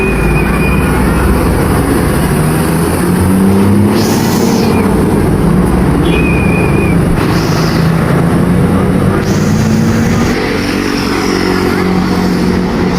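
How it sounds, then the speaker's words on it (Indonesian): A medium-size Budiman bus engine rumbles loudly and steadily, its low drone rising and falling as it pulls away from the departure point, with brief higher whooshes passing through. "Satu unit bus medium Budiman diberangkatkan menuju Sukabumi."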